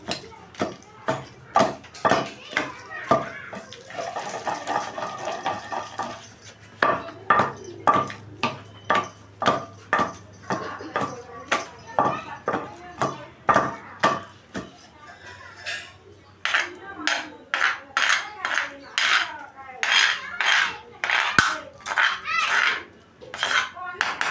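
Okra chutney being pounded and ground in a stone mortar, sounding as steady, close rhythmic thuds and scraping knocks that repeat throughout with brief pauses.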